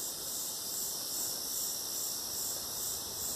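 A cicada calling in a park gives a loud, continuous, steady high buzzing drone that runs unbroken throughout, close and dominant with no voices.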